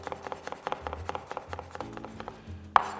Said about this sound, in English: We're just gonna rough chop it.